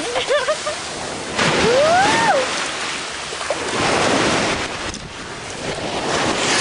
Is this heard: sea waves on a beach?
yes